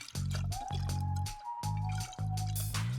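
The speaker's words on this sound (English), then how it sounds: "we'll start by adding some sunflower oil" Sunflower oil pours into a glass cylinder in a close, gurgling stream, with a few glugging bursts and a rising ringing tone as the vessel fills.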